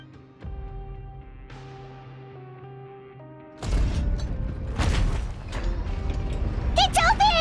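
A sluice gate valve in Genshin Impact grinds open, heard as a low droning mechanism that jumps into a loud rumbling clatter with heavy metallic thuds, while voices talk over the end.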